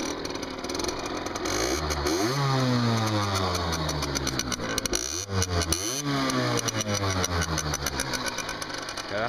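A small Derbi Senda moped engine, already warm, sputters to life nearby, then revs up and down repeatedly in rising and falling whines, idling roughly between bursts.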